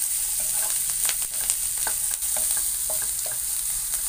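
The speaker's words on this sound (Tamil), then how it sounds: "கடைசியாக கேரட்டையும் போட்டு நம்ம வதக்கிக்கலாம்." Carrots sauté in a pan with curry leaves and coriander, a steady close sizzle running throughout, broken by repeated light scrapes and taps of a stirring spoon.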